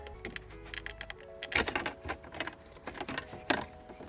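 Plastic shifter trim tabs on a Ford Fusion being pried loose, giving a string of sharp close clicks, snaps and scrapes in irregular quick bursts.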